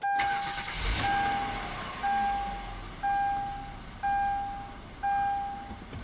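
A 2012 Kia Sorento SX AWD starts with push-button ignition: a short engine-start burst early on, then a settled idle under a series of evenly spaced electronic chimes, one about every second.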